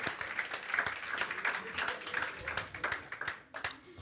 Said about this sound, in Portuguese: Vamos dar um aplauso ao Senhor por essas vidas?